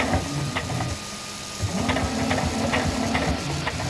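A sewing machine stitching fabric runs with a steady mechanical whir and rhythmic needle clicks, close and fairly loud, with a brief slowdown partway through.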